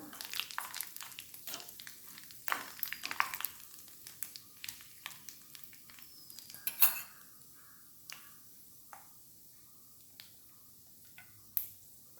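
Coconut pieces frying in a pan, with garlic added soon after, for a Kerala sadhya naranga curry: faint sizzling under scattered clicks and light clinks of a utensil against the pan, with no talking.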